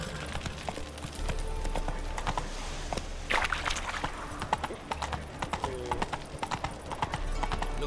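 Hooves of the horse Roach clip-clop at a rapid gallop in The Witcher 3, a steady near rhythm with occasional whinny-like sounds over faint game ambience.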